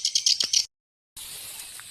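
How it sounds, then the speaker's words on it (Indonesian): Birds chirp in a rapid buzzing trill at a fishing spot, fairly close, cutting off briefly before a continuous chirring chorus resumes. "suara burung bersik anjay"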